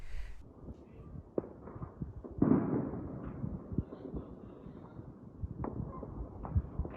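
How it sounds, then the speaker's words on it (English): Scattered distant pops and thuds of Diwali fireworks in Mussoorie, irregular and muffled, some louder bursts among faint crackles over a low rumbling background. "Not too many fireworks this time. Of course, you can hear them"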